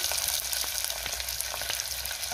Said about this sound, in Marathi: कांदा मी 2 मिनिटं चांगला परतून घेणार आहे